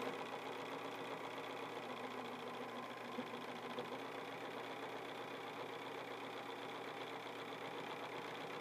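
A sewing machine stitches steadily along a quilting template, giving a close, constant mechanical whir that runs on without a break and with no talking.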